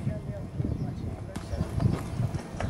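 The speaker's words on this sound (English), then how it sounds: "Pretty neat horse." A horse's hooves clip-clop at a steady walking pace, soft and close, under a low murmur of nearby voices.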